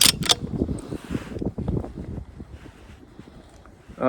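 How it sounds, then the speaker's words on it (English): Gusty wind buffets the microphone at an outdoor shooting range, loud low rumbling in uneven surges that ease off toward the end, with no talk. "we have more wind than expected"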